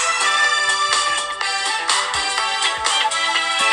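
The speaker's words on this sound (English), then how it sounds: "that's a solid ringtone" A Samsung Galaxy A23 phone plays its ringtone loudly and close by. The bright, repeating melodic tones pulse in a regular rhythm with no voices.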